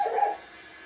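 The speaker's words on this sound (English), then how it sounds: "I apologize for the dog in advance, folks." A dog gives a single short bark or yip, sharp at first and then trailing off quickly into quiet background.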